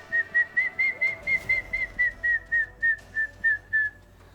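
A repeated clear, high whistled note, about a dozen evenly spaced short calls in steady rhythm, fairly close and alone over quiet background; it may be a person whistling an imitation of a goshawk call rather than the bird.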